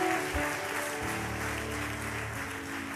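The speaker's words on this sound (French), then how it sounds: "Acclame très fort le Seigneur Jésus." Church congregation at a Sunday service clapping and cheering loudly for Jesus, a steady sustained burst of applause filling the room.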